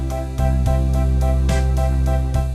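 Electronic organ playing a slow ballad-pianist accompaniment at 72 bpm, sustained chords with soft rhythmic pulses on each beat, full and steady without any voices.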